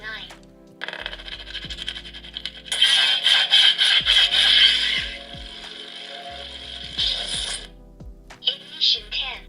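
Neopixel lightsaber ignition effect: an electronic hum rises out of a crackling buzz, then a bright sustained sizzle swells and fades, with faint electronic tones and clicks under and after it.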